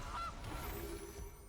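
A goose honks briefly from the Goose card in the Magic Arena video game, a short, faint honk over a game background.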